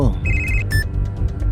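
A phone rings loudly up close, sharp electronic tones over a low background murmur.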